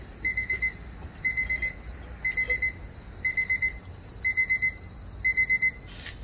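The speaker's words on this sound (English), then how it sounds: "There's the timer." Cooking timer alarm going off beside a Blackstone griddle while eggs poach, sounding repeated clusters of rapid high electronic beeps in a regular rhythm, loud and close, six bursts in a row.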